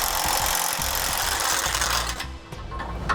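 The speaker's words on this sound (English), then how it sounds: "Now we'll go ahead and tighten up all of our nuts." Ratchet tightening the nuts on a Roadmaster rear anti-sway bar on a 2016 Ford F-53, giving a steady, dense mechanical clicking that runs close and loud for most of the clip, then thins out near the end.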